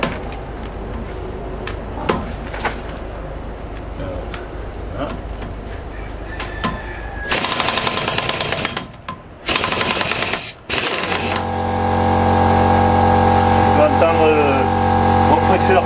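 A Parkside pneumatic impact wrench in a workshop hammers in loud, rapid bursts with short gaps, followed by a steady hiss. Earlier come scattered clicks and clatter, and a person talks at times.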